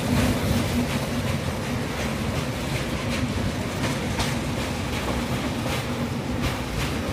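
The steady, loud rumble and rattle of a train crossing a bridge at Kagaznagar, India, carries on without a break, heavy and close, with no voices.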